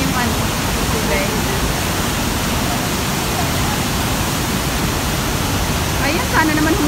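A water fountain at the Dubai Canal splashes in a loud, dense, unbroken hiss close by. Faint voices surface briefly near the end.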